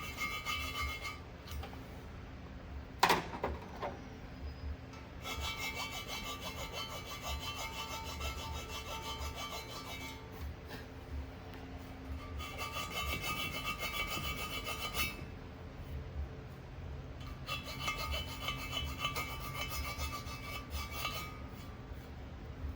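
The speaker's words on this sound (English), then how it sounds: "there's all kinds of burrs and crap in here" Hand file rasping burrs and casting flash out of a port in a StingRay cylinder head, a steady scraping texture in repeated strokes with brief pauses and one sharp knock near the start.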